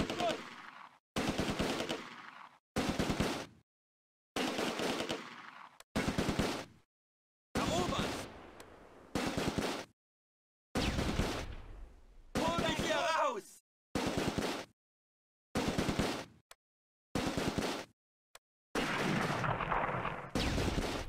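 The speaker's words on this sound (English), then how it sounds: "The machine gun targets the Schützen." Machine gun and rifle fire in the Close Combat WWII game, heard as repeated loud bursts separated by short silences, with rapid automatic rattles and heavier booms, and voices mixed in.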